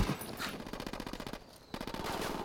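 Automatic gunfire from the video game Ghost Recon Wildlands rattles in rapid bursts, with a brief gap midway before the firing resumes, moderately loud.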